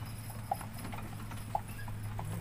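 Faint horse hooves clip-clopping at a slow walking pace in an old English village in Morrisburg, Ontario, a few distinct clops over a low background hum.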